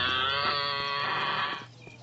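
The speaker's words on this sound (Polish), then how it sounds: "raptem krowa." A single long cow moo in the Postal 2 video game, loud and close with a rich harmonic drone that tapers off, followed by quiet background.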